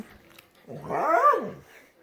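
A dog lets out a single rising and falling growl, close by and moderately loud, lasting about a second, with quiet before and after.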